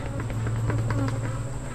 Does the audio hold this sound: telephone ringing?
no